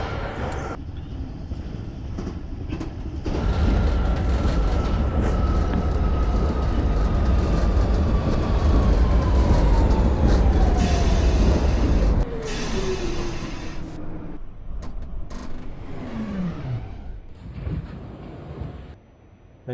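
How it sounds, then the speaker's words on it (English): An R46 subway train in the BveYard simulator rolls into or out of a station, a loud steady rumble of wheels and motors with a long falling whine, easing off and quieting toward the end. "Trains are entering or leaving the station."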